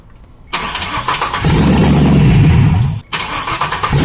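An LS V8 swapped into a Chevrolet Colorado cranks on the starter, then catches into a loud, rough running roar that cuts out abruptly and resumes more unevenly, heard up close.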